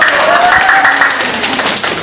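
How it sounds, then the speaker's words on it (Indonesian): A classroom group claps together at an Islamic boarding school during a teaching practice session, a dense steady patter of hands lasting about two seconds with some voices mixed in. "tepuk tangan untuk kelompok 1"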